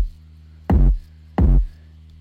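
Two punchy drum hits with sharp attacks emphasized by a transient shaper, spaced about two-thirds of a second apart over a low steady hum.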